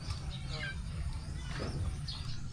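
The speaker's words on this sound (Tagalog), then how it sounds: "Tandang na." A rooster clucks and calls faintly in a few short bursts over a low, constant background rumble.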